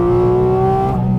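Sports car with a short wheelbase and a spiky engine, revved on the throttle on a track: a loud, sustained engine note holding steady, then dipping slightly near the end.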